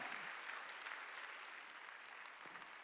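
A church congregation claps together during a Sunday worship service, a faint, even wash of applause sustained without a break and heard from a distance.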